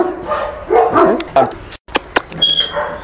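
A dog barks at its trainer during a training session: short sharp barks and yips come in quick bursts, fairly close and loud, with a person talking in between.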